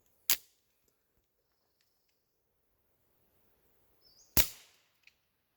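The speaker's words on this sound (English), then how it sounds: "there's definitely no doubt that we're dealing with a gunshot there" Two sharp suppressed pistol shots crack out at close range, one near the start and another about four seconds later, each followed by a short ringing decay, with near silence between them.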